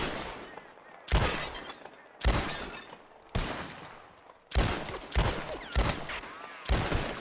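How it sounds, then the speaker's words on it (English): Seven sharp revolver shots from a Red Dead Redemption 2 bottle-shooting contest ring out at irregular intervals, each a loud close crack with glassy shattering as a bottle breaks. "Whoever shoots more of these bottles wins."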